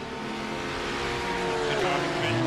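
A GT3 race car in the racing simulator iRacing accelerates, its engine note steadily rising in pitch and loudness while a commentator talks over it.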